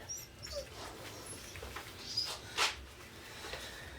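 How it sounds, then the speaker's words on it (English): Dogs whimper and whine softly in a quiet indoor space, with faint, thin cries scattered through a low steady background and one brief sharper yelp near the end. "What are you doing, crazy dogs?"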